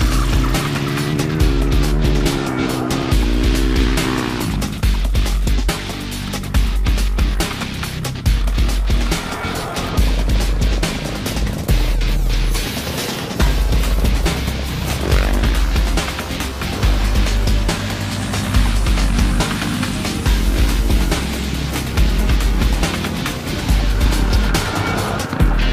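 A WK 450RX motorcycle being ridden, its engine running loud and close with rhythmic rises and falls in revs as the rider accelerates and eases off, continuous throughout.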